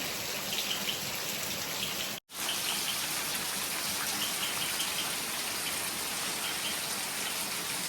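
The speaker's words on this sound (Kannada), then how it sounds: "ಬೆಳಿಗ್ಗೆ ಫುಲ್ ಮಳೆ ಹೋಗ್ತಾ ಇದೆ" Heavy morning rain falls in a steady, dense wash that broadly resembles gushing water, continuous and close apart from a brief dropout, with no voices.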